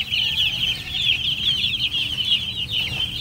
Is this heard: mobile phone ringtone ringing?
no